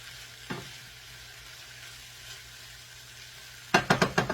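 Portuguese linguica and peppers sizzle quietly in a pan as they cook, a soft steady fry with a brief clatter early on and a burst of several sharp utensil knocks near the end.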